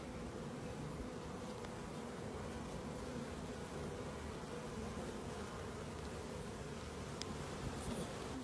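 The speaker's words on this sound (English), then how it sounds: "shaking off the bees." Honey bees buzz in a steady, faint drone as they are shaken off a hive frame, a soft swarm hum with no voices.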